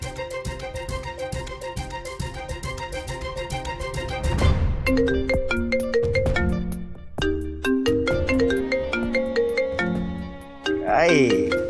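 A mobile phone rings with a looping electronic melody of bright, repeating tones, steady and fairly loud through most of the scene in a Marathi TV serial, with voices speaking over it.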